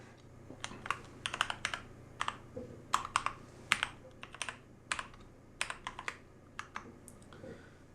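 Someone types a computer name on a keyboard during a Linux Mint install: a quiet, close run of irregular key clicks in short bursts with brief pauses between, over a low background hum and no speech.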